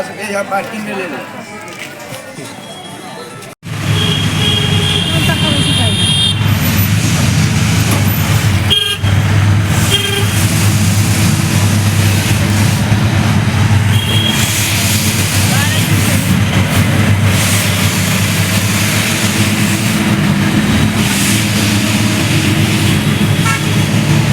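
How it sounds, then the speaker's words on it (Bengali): At JCD railway station, a busy crowd murmurs and talks continuously while a train's tonal horn and vehicle honks sound loudly over a steady rumble. "এটার নাম হচ্ছে জেসিডি রেল স্টেশন"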